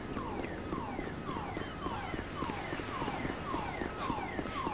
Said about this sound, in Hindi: ये ट्रक सायरन क्यों बजाने लगा?